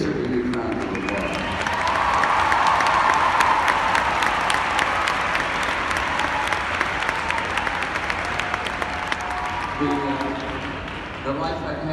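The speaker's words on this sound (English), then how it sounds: "They deserve a huge round of applause." A large audience at a junior theater festival gives sustained applause, with dense clapping and some cheering that swells and holds steady before easing off near the end, a voice faintly audible underneath.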